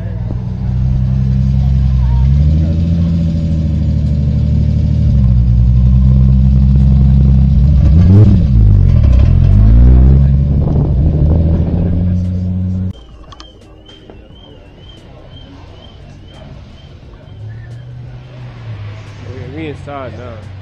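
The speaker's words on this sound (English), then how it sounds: "got some Ferraris coming in." Ferrari engines rumble loudly and continuously as the cars arrive at a motorsports venue, with a revving swell midway, then an abrupt drop to a quieter background with a faint whine and people talking.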